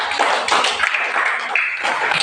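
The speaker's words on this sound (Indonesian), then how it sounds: "kita berikan aplaus untuk kelompok 1" A classroom group claps in applause for a student group, a steady close patter of many hands running through without a break.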